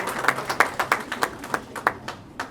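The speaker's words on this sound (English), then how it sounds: "So a big round of applause for our friends from Afghanistan that are present here today." An audience claps at a public speech event on the Afghanistan crisis, a fairly thin, evenly paced series of claps rather than a roaring ovation, with no talk over it.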